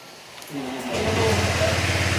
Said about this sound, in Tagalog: pinandar ko muna para maiparinig ko sa inyo yung gagawin natin sa motor na to